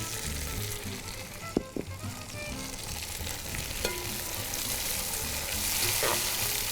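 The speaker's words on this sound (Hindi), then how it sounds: "ये सारी चीज़ें मैं इसमें शामिल करूँगी और इसको हम फ्राई करेंगे।" Carrots, pistachios, almonds and raisins fry in a pan for Afghani pulao, giving a continuous hissing sizzle punctuated by a few sharp clinks of a utensil, with the frying swelling slightly louder toward the end.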